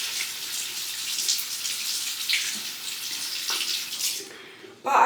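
Water runs steadily from a tap as oily hands are rinsed beneath it, a broad continuous hiss that cuts off near the end, followed by a brief louder clatter.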